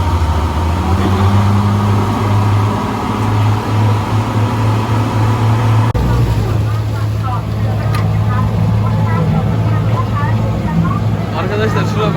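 A car engine drones steadily with continuous road rumble while driving toward Phi Phi Island, a constant low hum that holds throughout with voices intermittently over it.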